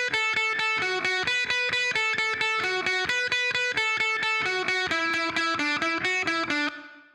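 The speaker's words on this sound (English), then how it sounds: "It's set to like, a distortion. Not like full-blown metal, but like nice and chunky kind of distortion, but on single note." Electric guitar played through an Egnater amp set to a chunky, moderate distortion, picking a steady run of single notes with an even rhythm, loud and close, ringing out briefly at the end.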